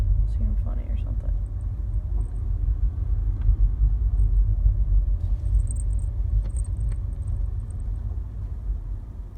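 Car tires that seem off drone with a constant low rumble on the road from inside the moving vehicle, along with faint rattles and a few small jingles.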